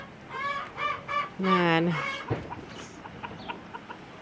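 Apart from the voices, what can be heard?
chickens clucking in a greenhouse coop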